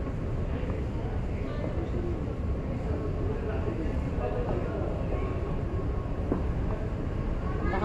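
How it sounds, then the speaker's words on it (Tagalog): Dubai Metro carriage heading toward Dubai Mall, with a continuous low rumble and rolling rail noise throughout, heard from inside the moving train at moderate level, with faint background sounds over it. "Dito kami sa sa train kami, papalusog kami sa Dubai Mall."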